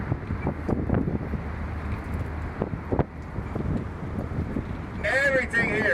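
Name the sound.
wind blowing on open-top bus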